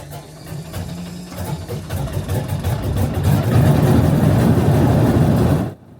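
Radial engines on a Fokker Trimotor crank and catch, a low mechanical whir building into a loud, rough, throbbing roar that holds steady before cutting off abruptly.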